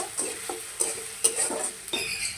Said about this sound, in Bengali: পেঁয়াজ কুচি আর কাঁচা লঙ্কাটাকে একটু ভালো করে ভেজে নেব।